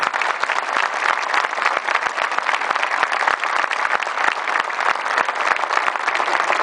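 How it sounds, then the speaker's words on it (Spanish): Large crowd applauding at an outdoor beatification ceremony in Villa Cura Brochero, Argentina, honoring the parish priest and parish community; steady, dense clapping sustained evenly throughout without pause. "Vamos a darle un fuerte aplauso al párroco y a toda la gente de la parroquia."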